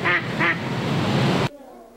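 A person imitates a duck with two quick nasal quacks, close and loud, followed by a short stretch of rough vocal noise that cuts off abruptly.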